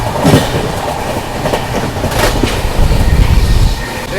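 The Purva Express, train 12382 running New Delhi to Howrah, rushes past close by on the adjacent track during a crossing, a loud, continuous roar with rhythmic wheel clatter and brief metallic squeals.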